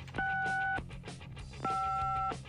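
Telephone dialing tones: two steady, fairly faint electronic beeps, each lasting about half a second, separated by a short pause over background noise.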